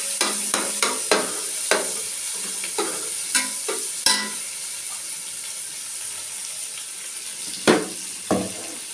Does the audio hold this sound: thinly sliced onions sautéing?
yes